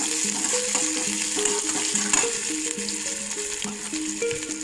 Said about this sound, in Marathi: मिरची टाकायची, परत कढीपत्ता, कांदा, त्यानंतर परतून घ्यायचं।